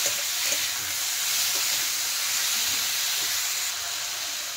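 Potatoes and tomatoes sizzle steadily in a pan after salt goes in, a loud continuous frying hiss with faint scraping from stirring and no voices.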